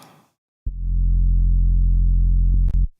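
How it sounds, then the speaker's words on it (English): A single sustained synth bass note, a distorted sine wave, deep and buzzy with gritty distortion, holds steady for about two seconds before cutting off. "And then here's the bass."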